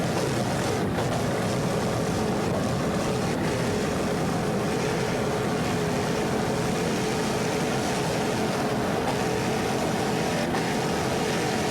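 A 38-foot Fountain race powerboat with twin 500 horsepower Vortec inboard engines roars steadily at full throttle during a Daytona offshore race, a loud, continuous, dense engine and water rush that holds without a break.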